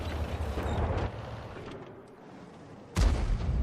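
An M44 self-propelled artillery piece fires in World of Tanks, a loud, booming shot followed by a rumbling tail, then a second sharp blast.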